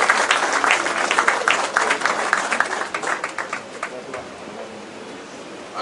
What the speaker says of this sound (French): je demande à l'assistance d'applaudir l'ensemble du cabinet ministériel